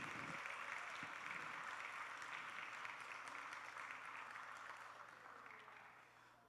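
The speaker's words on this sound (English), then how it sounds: "give them a round of applause as well" An audience at a K-8 student film festival's Best of Show screening and awards applauds steadily for the whole stretch, a broad even clapping that slowly fades toward the end, with no talk over it.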